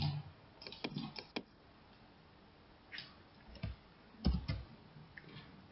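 Computer keyboard keys are pressed for a Ctrl I shortcut. Quiet, crisp clicks come in small scattered clusters with pauses between them, in an otherwise near-silent room.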